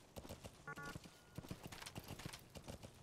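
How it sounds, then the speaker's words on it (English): A horse trots in Metal Gear Solid V, its steady hoof clip-clops repeating at a quick, even rhythm with a brief whinny early on. The sound is fairly quiet, with faint voices underneath. "How do I make D-Horse move faster?"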